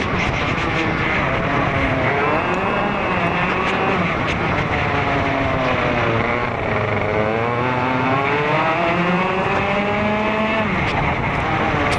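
A racing kart engine screams at high revs during a ROK Cup race, loud and close with constant pitch sweeps rising and falling as the kart brakes, accelerates out of corners and chases another driver.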